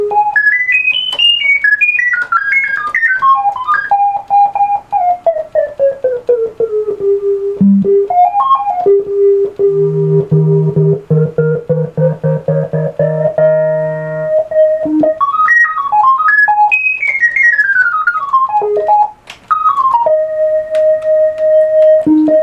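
A Memorymoog polyphonic analog synthesizer under restoration, heard through its filter alone, plays a tonal line of sliding, gliding pitches with a steady held note and bright harmonics, loud and close, with no talk.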